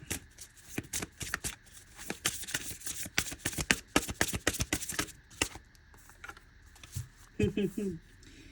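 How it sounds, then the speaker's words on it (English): Oracle cards are shuffled close by in a rapid run of crisp riffling snaps, then slowed, with a few softer placements as the cards are laid out, followed by a brief voice. "let's go ahead and get some cards laid out"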